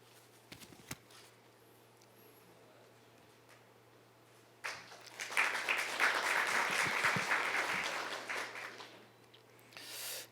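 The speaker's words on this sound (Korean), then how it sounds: "큰 박수로 맞이해 주십시오." An audience at a diplomatic strategy symposium opening ceremony claps to welcome the prime minister, a few scattered claps first, then a full burst of applause swelling for several seconds before fading.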